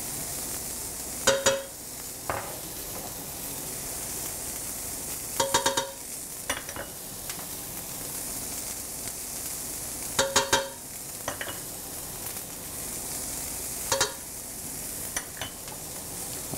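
Onions frying in a pan give a constant soft sizzle, interrupted by a few sharp clusters of scraping and stirring clatter at intervals of several seconds.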